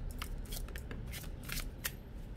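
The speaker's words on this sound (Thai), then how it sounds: "ก็จะสามารถทำการสับไพ่ได้เป็นอย่างดีนะคะ" Shadowscapes tarot card deck being shuffled by hand, a run of crisp riffling card flicks in quick irregular bursts, close and fairly quiet with no talking.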